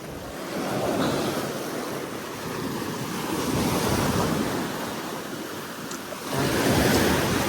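Ocean surf washes continuously onto a beach, a broad rushing roar that swells and recedes, with wind buffeting the microphone.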